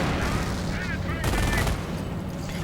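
Bursts of gunfire open up on sappers in a WWII-style real-time strategy battle, a rattle of rapid shots building to a dense volley around the middle, heard over a busy battlefield din.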